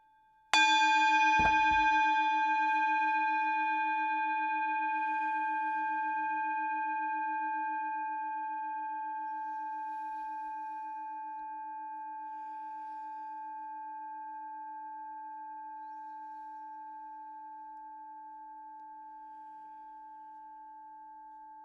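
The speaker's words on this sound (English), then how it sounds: "Let's end our mindfulness today one more time with the bell" A single mindfulness bell is struck once, ringing out clearly and alone in quiet, its pure sustained tone fading slowly over about twenty seconds.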